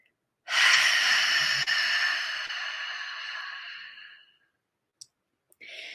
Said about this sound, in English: slow exhale out